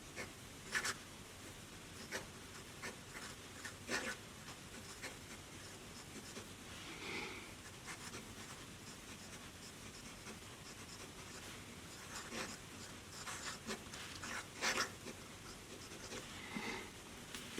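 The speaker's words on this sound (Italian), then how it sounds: "parto direttamente con una penna di quelle con le quali è piacevole scrivere" Pilot Falcon calligraphy pen nib scratching and rubbing across paper in lettering strokes, faint and close, with repeated short scrapes and small pauses between letters, no voices.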